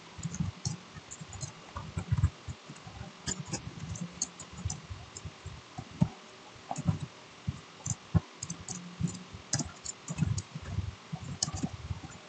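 Rapid, uneven keystrokes on a computer keyboard while typing a document in Microsoft Word, close and fairly quiet, with irregular bursts of clicks and short pauses and no talking.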